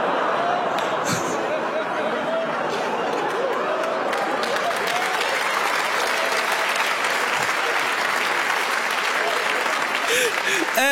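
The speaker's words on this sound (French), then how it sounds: "Vous m'applaudissez" At a French stand-up comedy show, a crowd applauds steadily for the whole stretch, thick continuous clapping with scattered chuckles and murmurs mixed in, fairly loud and close.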